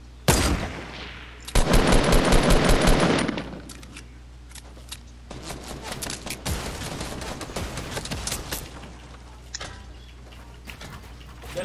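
Fortnite gunfire at Tilted Towers: an opening burst of rapid machine-gun fire, then scattered single shots and clinks of shell casings, loud and close throughout.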